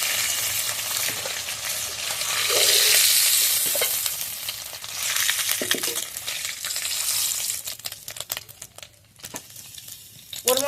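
Hilsa fish heads frying in hot oil in a pan give a steady, loud sizzle and crackle with stirring and scraping noises layered on top that thin out toward the end.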